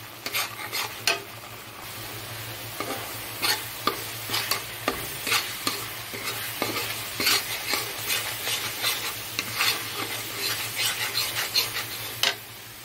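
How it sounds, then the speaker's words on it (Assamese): Ground spice paste with turmeric, salt, chilli, coriander and cumin powder being fried and stirred, a soft sizzle broken by repeated sharp scrapes and clinks of a spoon against the pan, over a steady low hum. "মছলাখিনি আগত বঢ়িয়াকৈ ভাজি ল'লোঁ"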